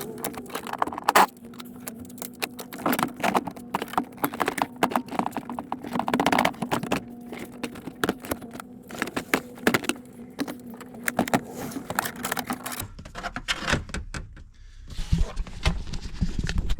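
Metal clicks and ratcheting clatter of a wrench working loose the 16mm seat bolts in a BMW E36 328i coupe, rapid irregular taps close by over a low hum, ending in a brief quieter stretch.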